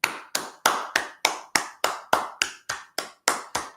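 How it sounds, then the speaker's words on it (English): Twelve sharp hand claps in a steady, fairly quick rhythm, close and clear with short decays, sounding like a single person clapping rather than a crowd's applause. "Can we give a round of applause?"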